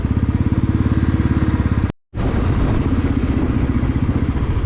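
A motorcycle on a highway throbs with a loud, steady pulsing engine drone up close, briefly cutting out for an instant before resuming at the same even rhythm.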